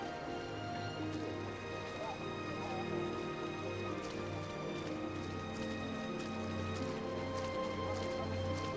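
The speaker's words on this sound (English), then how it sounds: "Don't stay home because it's raining." Steady rain in the video game Final Fantasy XIII-2 patters and hisses throughout at an even level, with a low droning tone pulsing underneath and faint clopping sounds mixed in.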